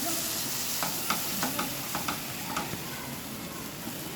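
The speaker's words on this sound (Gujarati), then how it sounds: "તો આપણે મસાલાને સારી રીતે મિક્સ કરી લેવાનું છે." Spice masala for palak paneer being stirred in a hot pan, with a soft steady sizzle under a series of sharp spoon scrapes and taps against the pan, unhurried and close.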